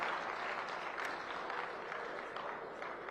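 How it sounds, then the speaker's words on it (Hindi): A large audience at a Jaipur employment fair claps for the chief minister, a dense, steady applause lasting the whole stretch with no talk over it. "आज रोजगार मेले के अवसर पर मैं आप सबसे आग्रह करता हूं कि ताली बजाकर हमारे मुख्यमंत्री जी का धन्यवाद और अभिवादन कीजिए।"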